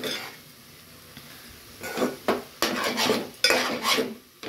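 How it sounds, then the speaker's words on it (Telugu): Spoon scraping and clattering against a metal pan while stirring a finished baby shark curry with the stove switched off, a run of irregular close scrapes and knocks after a quiet start. "మిక్స్ చేసేసుకుని ఒకసారి"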